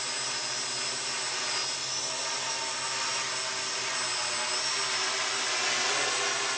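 Walkera QR X800 drone motors rev up from a bumped throttle, a loud, steady high-pitched whine with sharp tonal overtones that stays close and constant throughout.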